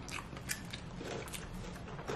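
A crunchy Taco Bell Triplelupa is bitten and chewed up close, giving dense, crackling crunches that run steadily through the whole stretch with no talking.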